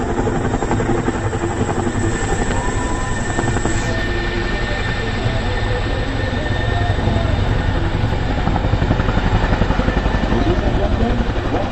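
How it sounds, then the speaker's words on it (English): A large helicopter at an air show in Kashmir, hovering and rotating about its nose at full power, makes a loud, steady rotor and turbine roar close by, with a high whine and a constant rumble throughout. "the nose of the helicopter remains pointed to one point in the center and the helicopter rotating about it"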